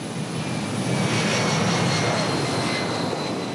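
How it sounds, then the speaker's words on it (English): Constant roar of an airplane's engines heard during a long passenger flight to Madagascar, a dense, even drone with a faint steady whine, loud and unbroken throughout, with no voices. "A 20-hour plane journey without so much as a decent video."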